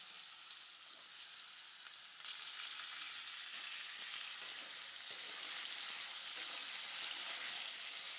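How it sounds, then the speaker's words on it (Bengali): Three medium potatoes cut into long strips go into hot spiced tempering oil and fry with a loud continuous hiss that swells slightly after a couple of seconds and stays even, close up, without talk. "ধুয়ে পরিষ্কার করে আলুগুলো দিয়ে দেবো"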